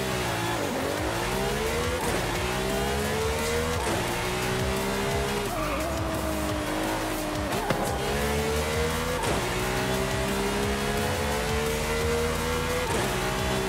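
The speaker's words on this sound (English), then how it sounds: "It's a really loud kind of gear change." A car engine in Forza Horizon 5 revs up repeatedly, each climb cut by a loud, abrupt gear change, with tire squeal and skidding mixed into the steady, close, loud engine roar.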